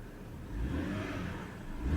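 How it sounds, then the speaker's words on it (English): A 2006 BMW 325i with a 3-liter inline six, its engine revving from a low hum up to a brief rise and settling back, faint and somewhat distant, no voices. "we find its 3-liter inline 6-cylinder. Runs really nice."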